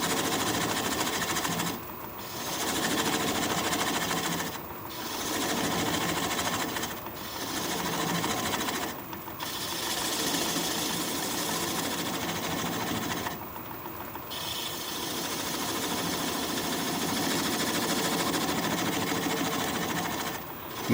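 A wood lathe turns an alder live-edge bowl with a gouge, a steady loud rhythmic whirring and scraping that runs continuously, broken by several brief drops where the cutting pauses.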